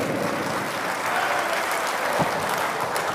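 Audience applause at an Urdu mushaira in Muscat, Oman, welcoming poet Ankita Singh to the stage: dense, steady clapping from a large crowd, sustained evenly throughout.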